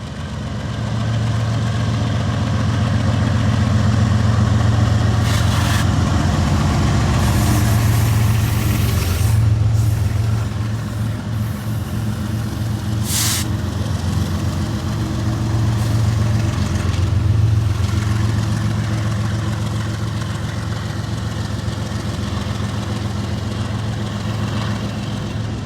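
Several Amtrak Empire Builder diesel locomotives, about 13,000 horsepower combined, idle with a steady low throbbing rumble. The sound is loud, close and continuous, with brief hissing bursts and no talk.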